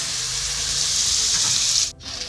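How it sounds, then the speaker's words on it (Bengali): Onions frying in hot oil with a pinch of salt make a close, steady hiss that cuts off abruptly near the end. "পেঁয়াজটা তাড়াতাড়ি ভাজার জন্য আপনারা এখানে কিছুটা পরিমাণে লবণ দিয়ে দিতে পারেন"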